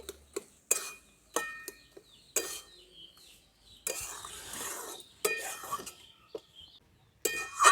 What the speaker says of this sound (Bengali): না না, চিনিটা দিয়ে আমি একটু নাড়াচাড়া করে নিচ্ছি